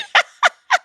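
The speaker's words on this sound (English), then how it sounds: "what is that little squeak of a meow?" A cat gives three short, high squeaky meows in quick succession, close and fairly loud, with brief pauses between them.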